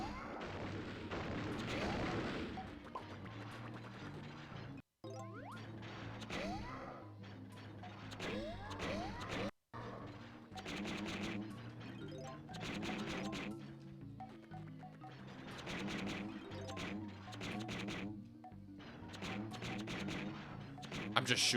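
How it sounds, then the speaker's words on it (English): In Donkey Kong 64, homing ammo is fired again and again in a steady stream of game shots and impacts over background music, continuing throughout with brief dropouts. "I'm just shooting. I got 200 shots now."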